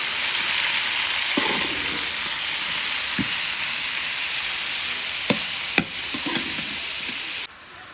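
Onions frying in ghee, a steady loud sizzle filling the whole stretch with a few sharp clicks of a utensil near the end before it cuts off; no voices.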